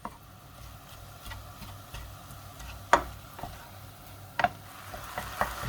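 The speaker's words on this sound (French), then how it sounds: "On fait bien cuire la viande." Minced beef seasoned with salt, pepper and garlic cooks in a pan for lasagne bolognese, giving a soft, low sizzle under occasional sharp spatula taps and scrapes against the pan.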